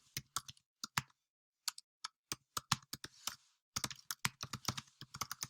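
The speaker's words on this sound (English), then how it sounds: "And as soon as I start typing," Fingers type on a computer keyboard in quick bursts of crisp clicking keystrokes, separated by short pauses. The sound is close and fairly quiet, with no voices.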